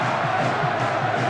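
Tony Smith's Barmy Army crowd at a 2004 rugby league match between Leeds Rhinos and St Helens, cheering and chanting in a steady, dense roar that fills the stadium throughout.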